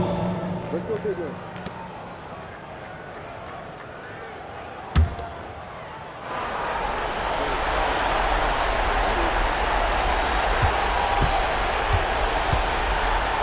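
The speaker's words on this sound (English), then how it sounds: "So the home crowd happy here as they get the victory." In the NBA 2K26 basketball game, a loud home crowd roar swells up and holds after a victory, filling the scene with cheering, with a sharp thump just before and occasional squeaks on top.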